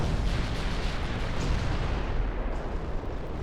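Naval gunfire in a video game, a dense continuous roar of shelling and explosions that stays loud and steady from start to finish, with no voices over it.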